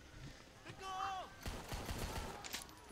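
Bursts of gunfire from Rambo The Video Game: sharp shots and a quick volley over game sounds, with someone talking over the action.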